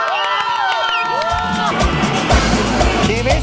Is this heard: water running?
no